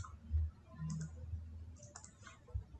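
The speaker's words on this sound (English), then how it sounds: "Now click on OK." A computer mouse clicks on an OK button in Microsoft Word, a few sharp, faint clicks close by against a quiet background with no voices.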